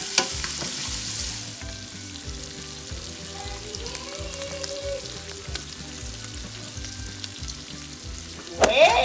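Ndakala, small dried fish, frying in a pan, a steady sizzle with a regular low rumble beneath and light stirring, ending in a brief louder clatter.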